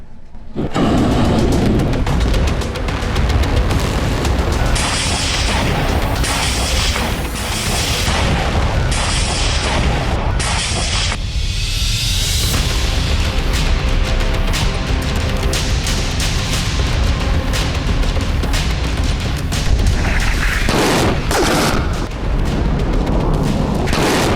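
Continuous loud rumbling blasts and booms from the Iran–Israel conflict, dense and roaring throughout, like a barrage of explosions with crackling debris.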